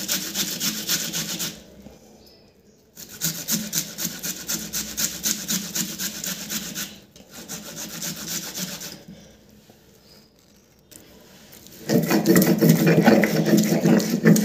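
Onion is ground back and forth on a Bengali sil-nora grinding stone, making rhythmic rasping scrapes in bursts with short pauses, louder and coarser near the end.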